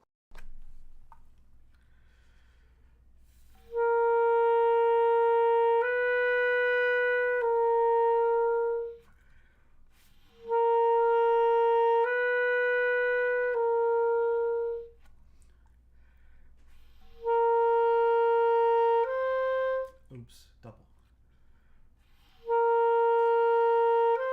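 A brass instrument plays four short double-lip and single-lip exercise sequences of sustained tones with silences between, each phrase stepping through a few notes, clear and moderately loud.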